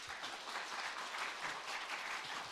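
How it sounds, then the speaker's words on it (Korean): A church congregation claps together to welcome the pastor to the pulpit, a soft, steady wash of many hands that stays even from start to finish. "목사님 나오실 때 우리 크게 박수로 환영하도록 하겠습니다"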